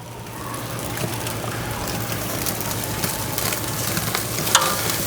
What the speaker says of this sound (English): I'm going to let these grill for a couple of minutes